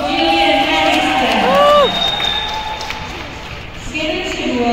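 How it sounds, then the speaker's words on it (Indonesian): A crowd cheers and claps in a large echoing shopping mall during an ice skating show, a voice on a loudspeaker ringing over the noise. "Tepuk tangan dulu dong untuk Jillian Harrison."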